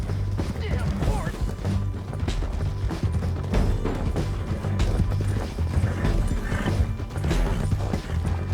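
Horse hooves clip-clop through a Red Dead Redemption 2 video game scene, set under a dense bed of music and shouting voices that keep the steps partly masked.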